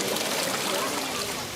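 Rainwater floods city streets in Dhaka's Dhanmondi, Khilkhet and Mohakhali after heavy rain, a steady broadband rush and trickle of running water, close and unbroken.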